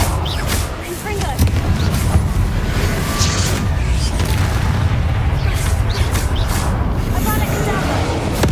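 Confringo spell explosions in Hogwarts Legacy, continuous loud booming and crashing with dense rumble, overlapped by voices shouting during combat.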